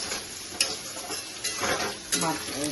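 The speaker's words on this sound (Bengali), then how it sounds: "পেঁয়াজগুলো একদম লাল হয়ে যাচ্ছে।" Onions turning red as they fry in a pan for a taro stolon curry, heard as a low steady sizzle broken by occasional scraping and clinking of a utensil against the pan.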